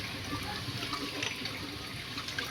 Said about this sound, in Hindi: ये देखो मैं चावल धो रही हूँ